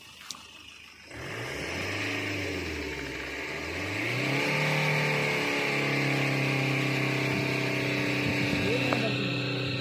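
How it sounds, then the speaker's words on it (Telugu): A car engine idles and then revs up as the accelerator is pressed, holding a loud, sustained roar that rises and stays high, close by with voices faintly underneath. "నేను ఎక్సలేటర్ కూడా రైడ్ చేస్తా"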